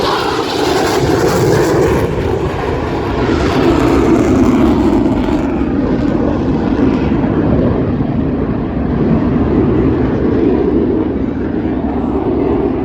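An aerobatic airplane at the Cleveland airshow roars loudly overhead, its engine drone sustained and strong before easing slightly as it passes, with no talk over it.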